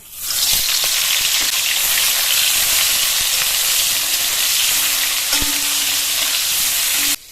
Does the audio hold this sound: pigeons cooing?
no